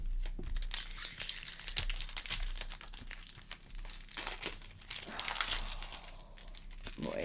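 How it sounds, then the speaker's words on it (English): A Secrets of Strixhaven Play Booster pack wrapper is torn open up close, giving several seconds of steady crinkling and ripping foil with a few sharper tearing bursts and no talking. "Sound of a pack ripping."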